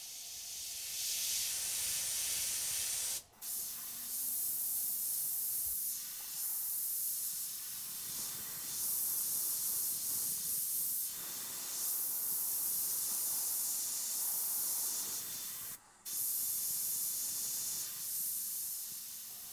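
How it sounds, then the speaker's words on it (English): An airbrush spraying Trident airbrush paint: a continuous close airy hiss, cut off twice by brief pauses before resuming, with no voices. "this time I'm using Trident airbrush paint"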